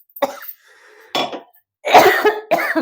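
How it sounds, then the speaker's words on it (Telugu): Several harsh coughing bursts in a row, brought on by fenugreek chilli powder being made, close and fairly loud, separated by short pauses, with a faint hum between them. "మనకు దగ్గు వస్తుంది"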